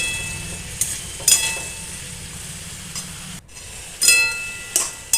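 Green chillies and curry leaves fry in a pan with a steady sizzle, broken by a few sharp bursts and scrapes as the pan is stirred.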